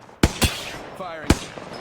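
Weapon fire in the Apex Legends video game: three sharp, loud shots, two close together and a third after a pause, with game voice sounds faintly in between.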